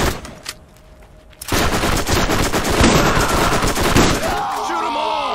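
Gunfire in the Borderlands video game: a dense, sustained rattle of rapid shots and blasts that kicks in loud after a quieter opening second and continues steadily, then tails off into ringing echoes.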